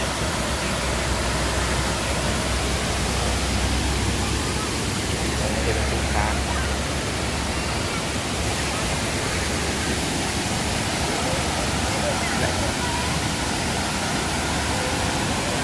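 Kroeng Krawia waterfall pouring down, a dense unbroken roar of falling water, loud and close, that stays constant from start to finish.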